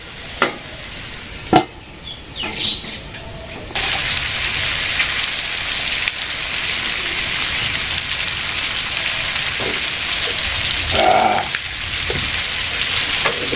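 Curry being sautéed in a pan starts with a few clattering knocks, then settles into a loud, continuous sizzle with occasional stirring bursts.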